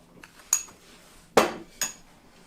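A spoon or utensil clinks against a bowl while flour and salt are mixed for pizza dough. There are three separate sharp knocks with quiet gaps between them, and no one speaks.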